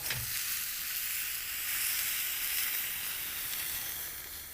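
Sourdough bread soaked in egg mix sizzles on a hot griddle over a campfire, a steady bright frying hiss that is close, continuous, and heard alone without any talking.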